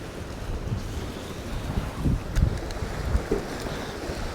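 Strong wind gusts buffet the microphone on a seashore during a fishing session, a continuous rough roar with heavier low thumps rising and falling, surf faintly beneath.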